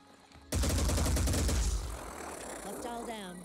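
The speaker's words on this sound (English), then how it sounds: "Get closer and shoot everywhere. Just shoot." Heavy automatic gunfire from the Phoenix Point strategy video game bursts in loud and dense after a short lull, then fades into lighter mechanical clatter and whirring effects.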